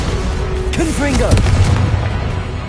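A fiery Confringo spell in Hogwarts Legacy erupts as a sharp booming blast following a brief whooshing sweep, with low rumble trailing off amid game combat noise and vocal effects.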